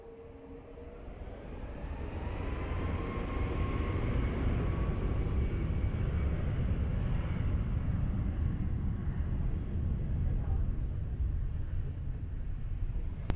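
A Ryanair airliner takes off from runway 20 at Lisbon Airport, its engine roar swelling from a faint start into a sustained, broad, distant rumble that holds steady throughout.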